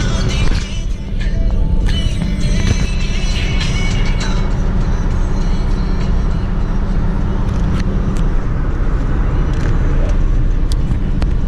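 Pontiac Grand Prix GT cruising on the road under cruise control, heard from inside as a steady loud rumble of engine and road noise, with a few faint clicks early on.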